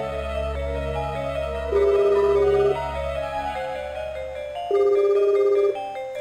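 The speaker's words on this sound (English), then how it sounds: "The phone is ringing. The mechanical electrical sound repeats over and over, then all of a sudden it stops." Two long, loud rings from a mechanical electric telephone in the horror game Silent Hill, repeating steadily over a low droning background, with no voices.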